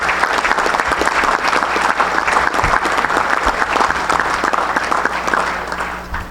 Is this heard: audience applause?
yes